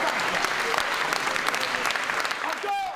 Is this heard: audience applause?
yes